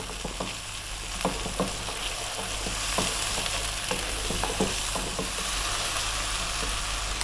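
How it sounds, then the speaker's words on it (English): Spice paste for an Arab-style beef stew frying in a pot, a steady close sizzle broken by regular scraping stirs of a spoon against the pan, with no talk. "We need to kind of cook the paste out a little bit. Keep it moving pretty much all the time now."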